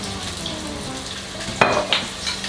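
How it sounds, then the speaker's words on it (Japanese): About a tablespoon of olive oil hits a hot frying pan, giving a sudden sizzling burst followed by a second short flare of crackle over a low, steady kitchen hum. "熱した フライパンにだいたい大さじ1杯の オリーブオイルを入れます。"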